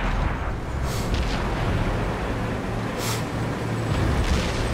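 Tank cannon fire and shell impacts in the console version of World of Tanks form a dense, continuous rumble with a couple of sharp bursts standing out above it.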